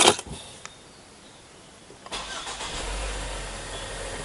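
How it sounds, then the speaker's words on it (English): A Ford S-Max is started: after a click and a quiet pause the starter catches and the engine fires, settling into a steady low idle close by. "Run the engine."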